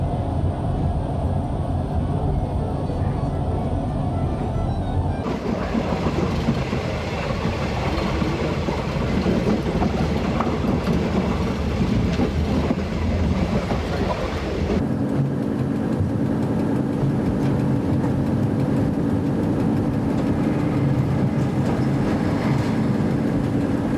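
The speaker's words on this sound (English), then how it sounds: "The train is making a brief stop at the Malaysian-Thai border" The Eastern & Oriental Express rumbles along near the Malaysian-Thai border with a steady, loud rolling drone and faint clatter of railcars that continues throughout.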